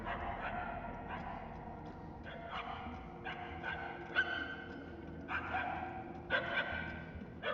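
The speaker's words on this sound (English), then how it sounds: "The barks are getting louder at least." Puppies yip and bark in short repeated bursts from some distance, with breathing and a faint voice in the background.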